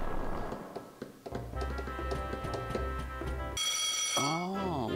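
A slot machine video game chimes with a ringing bell and electronic jingles, a bright, steady, tonal ringing over tapping sounds, then a rising and falling electronic tone at the end.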